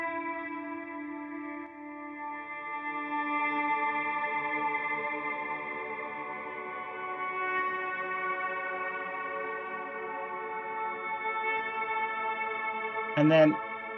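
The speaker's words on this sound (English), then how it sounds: "This one adds that shimmer at the top" Sustained chords drenched in shimmer reverb, bright upper harmonics hovering above the tone, ending with a short sharp burst near the close, in ambient music.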